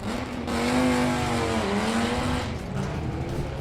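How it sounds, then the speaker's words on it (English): Two Dodge SRT-10s with manual gearboxes, a Viper and a pickup truck, drag race at Hot Rod Drag Week, their engines loud and rising in pitch together before easing off and then building again. "How about a pair of SRT 10s? One of them a Viper, one of them a pickup truck."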